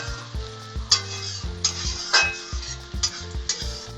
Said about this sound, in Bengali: পেঁয়াজটা নেড়ে চেড়ে ভালো করে লাল লাল করে নিতে হবে ভেজে।